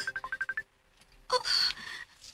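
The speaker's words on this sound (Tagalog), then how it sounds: "may bagting ang cellphone" A cellphone ringtone plays as a quick series of bright repeated electronic tones for about half a second, followed by a louder burst of mixed sound with a piercing high tone, all in a dramatized Bisaya-language radio story.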